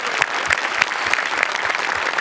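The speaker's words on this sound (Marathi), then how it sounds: "एकदा आपल्या हास्य रथी महारथींसाठी जोरदार टाळ्या झाल्याच पाहिजेत" Studio audience at a Marathi stage comedy show applauding the comedians: a loud, dense wash of clapping with a few sharper accented claps standing out at a steady pulse.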